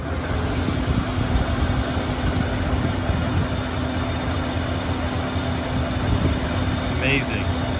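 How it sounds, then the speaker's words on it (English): A 1974 Mercury Marquis Brougham V8 idles smoothly at night, a steady low rumble with a slightly low idle speed, constant and close, with voices in the background. "Idle speed might be slightly low, not bad."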